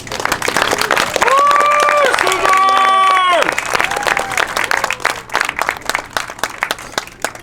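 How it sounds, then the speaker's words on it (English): Applause and cheering from a crowd at a graduation celebration, with a brief tonal sound midway and the clapping trailing into scattered claps. "One more round of applause."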